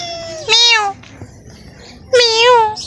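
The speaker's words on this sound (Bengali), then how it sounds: "এই যে দেখেন এদিকে একটা বিড়াল বসে আছে" A cat sitting beside a green village road gives two clear, close meows about a second and a half apart, with quiet outdoor background between them.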